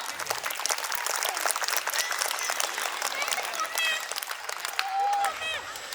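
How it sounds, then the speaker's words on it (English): A school audience at a Dussehra celebration event claps and cheers steadily throughout, dense broadband applause with a few brief whistles or shouts rising out of the crowd noise near the end. "Audience, cheer up!"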